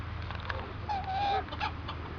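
Chickens in a rural setting, with a brief clucking, squawking call standing out over a steady low hum and faint background noise; no one talks.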